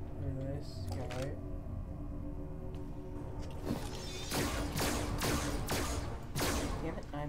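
Gunfire in the horror video game Five Nights at Freddy's Security Breach, a cluster of sharp, loud shots in the latter half, layered over steady game ambience and music, with a person talking in the background.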